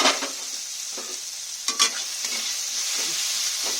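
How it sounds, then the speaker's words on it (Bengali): Onion and tomato fry in a pan for an okra mash as the lid comes off, giving a soft continuous sizzle with a few light clinks and stirring scrapes, close and fairly quiet. "5 মিনিট হয়ে গেছে, ঢাকনাটা খুলছি।"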